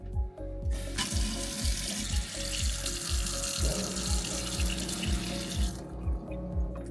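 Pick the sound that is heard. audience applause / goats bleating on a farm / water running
water running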